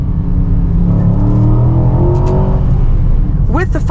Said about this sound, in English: downshifting. Hear the pops right there?